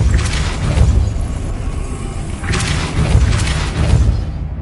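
Depulso spell cast in the video game Hogwarts Legacy on PS5, heard as deep booming whooshes that swell twice in a row, with a dull thudding low end and no talk over them.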